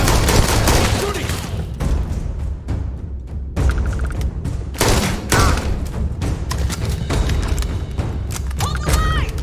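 Rapid gunfire in Starfield fills the scene, dense bursts of shots and heavy thumps in quick succession, with brief voices calling out between volleys.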